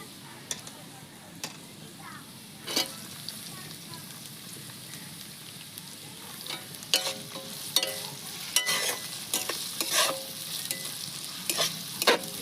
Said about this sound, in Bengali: পেঁয়াজ, আদা, রসুন কিছুক্ষণ ভাজা ভাজা করে নিচ্ছি